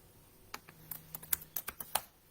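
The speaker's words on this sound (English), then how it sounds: "Let me type that thing in." Keys on a computer keyboard are pressed in a short, uneven burst of about a dozen soft clicks, close by and faint, with no talking.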